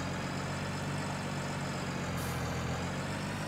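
A 650 hp tractor engine in Farming Simulator 19 holding a steady, low, heavy drone, fairly faint and unbroken over a few seconds.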